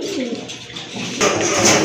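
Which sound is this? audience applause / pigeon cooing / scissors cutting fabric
pigeon cooing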